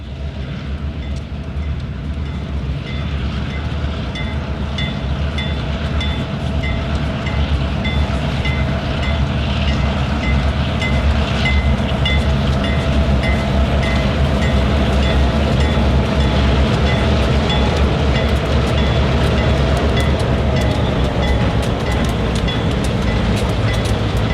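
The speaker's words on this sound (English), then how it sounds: "Today's L781 is actually Norfolk Southern Train 232." A Norfolk Southern intermodal freight train running over Georgia Central Railway track, a steady loud rumble of rolling cars with rhythmic wheel clatter sustained throughout, close by and alone.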